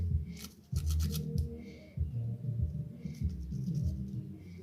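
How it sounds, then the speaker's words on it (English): Turmeric grated on the back side of a hand grater, heard as several short rough rasping strokes in bursts with brief pauses, close and moderately quiet, no talking. "when you grate using the back part"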